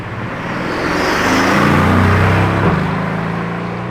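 A Pagani Utopia Roadster drives past on an open road, its engine note swelling loud and close in the middle, then fading away with a steady whooshing roar.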